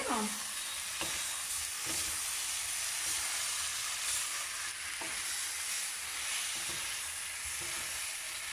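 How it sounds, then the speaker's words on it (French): Shrimp and noodles in colombo sauce being stirred in a pan, a steady close sizzle and hiss with a few soft scraping strokes spread through, no talking. "Donc mélangez bien, hein, surtout pour que la sauce elle soit répartie de partout"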